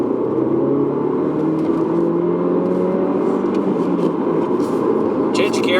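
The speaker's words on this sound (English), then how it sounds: "Little petrol engine." Small petrol engine of a 2018 Volkswagen T-Roc pulling away and accelerating, a steady mid-level drone with rising harmonics heard from inside the cabin, a voice speaking over it.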